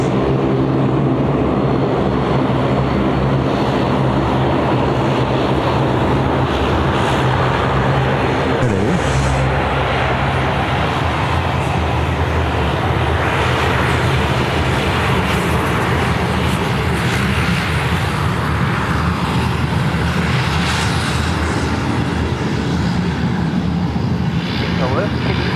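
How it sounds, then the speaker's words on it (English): Qantas Dash 8 400 turboprop airliner taking off at Sydney Airport: a steady, loud engine drone with a propeller hum that holds for the whole stretch, with a voice talking over it. "Qantas 450, 1459er off to Canberra. Dash 8 400."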